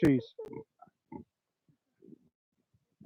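A mother pig grunts close by: one loud opening grunt, then a run of shorter, lower grunts that fade to soft, scattered snuffles.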